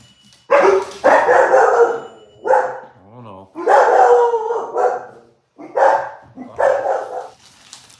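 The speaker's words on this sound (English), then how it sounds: "the dogs are done barking" Several loud dog barks come in bursts close by, mixed with a person talking.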